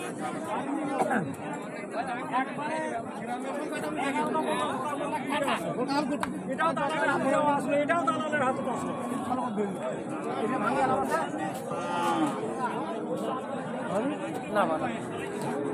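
Dense crowd chatter fills a busy Ambari cattle market, many overlapping voices bargaining at close range in a steady, unbroken hubbub.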